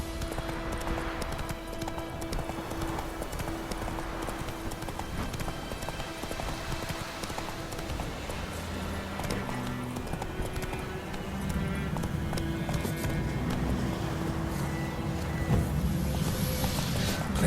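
Roach the horse galloping in The Witcher 3, a steady rapid clip-clop of hooves running under continuous game ambience and music.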